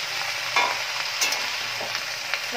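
Gourd leaves being stirred in a hot pan for lau shak ghonto give a soft continuous sizzle with occasional light scrapes and clinks from the utensil, close and without speech.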